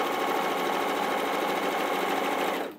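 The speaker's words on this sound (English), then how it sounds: "So I'm just going to start down the side and sew to the end." A sewing machine runs steadily as it stitches down the side of a piece of fabric, a loud, continuous close-up whir that holds for nearly three seconds before cutting off abruptly.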